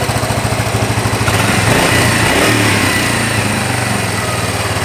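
A Yamaha SR250 single-cylinder motorcycle engine idles slightly high, its close, rapid putter turning into a smoother steady drone after a quick blip of the throttle.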